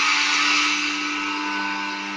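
An Advance BL-06 blender, once faulty and now repaired, runs in a loud, steady whine for a couple of seconds, close up and alone, easing slightly as it goes.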